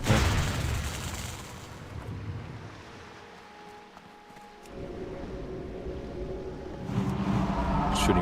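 Gunfire in World of Warcraft Classic Hardcore: a few loud, broad shot bursts over a windy, rumbling background. One blast is at the start, then a quieter stretch, then heavier booming resumes toward the end.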